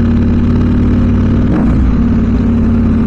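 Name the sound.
KTM 790 Adventure motorcycle engine revving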